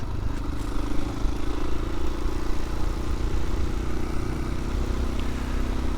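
A Husqvarna motorcycle engine fitted with an aftermarket clutch plate set runs at a steady idle, with a constant low drone and a faint mechanical hum close by and no talking.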